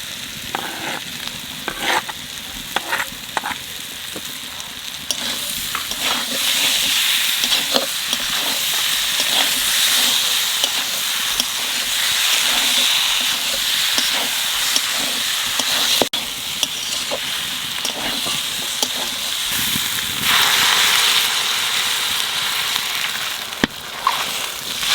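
Ground spice paste fries with jackfruit, potato and shrimp in a pan for a Bengali curry, a loud, continuous oily sizzle with intermittent crackles and stirring scrapes.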